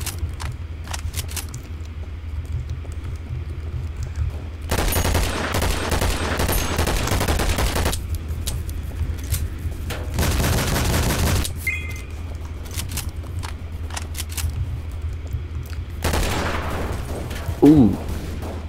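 Shotgun and other gunfire in the video game Double Action Boogaloo bursts in several loud, dense volleys separated by quieter stretches of low game background, with a few isolated sharp shots between them.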